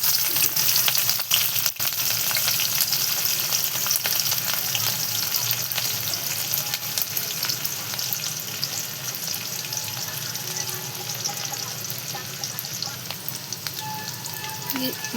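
Green chillies frying in hot oil in a kadhai, a strong steady crackling sizzle up close with scattered pops and stirring clicks, easing slightly over time.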